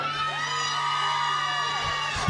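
A live concert crowd of women screams together at an outdoor music festival, a loud sustained wall of high shrieks and yells filling the whole moment.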